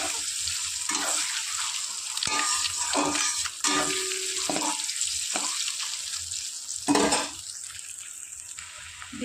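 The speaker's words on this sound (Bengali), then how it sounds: "এদিকে তেল গরম হয়ে গেছে, ডিমগুলো ছেড়ে দেবো।" Eggs sizzle loudly in hot oil with a steady hissing crackle and sharp spattering bursts, close up, and no one speaking.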